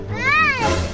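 A single cat meows once, close and clear, a short rising and falling cry outdoors in a backyard.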